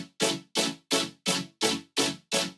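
A vocoded dubstep growl synth sounds in seven evenly spaced bright, buzzy bursts, each swelling and cutting off in a steady rhythm, played alone.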